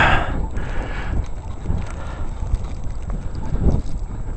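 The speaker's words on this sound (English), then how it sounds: "The wind is gusting." Gusting wind in a cold snowstorm, a steady rough roar of wind buffeting the microphone, loud and close with shifting bursts and no talking.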